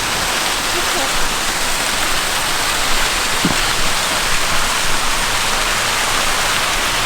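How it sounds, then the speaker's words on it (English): Small waterfalls on a moor stream in February, a loud, steady rushing wash of falling water that fills the whole stretch without a break. "Nice little waterfalls here"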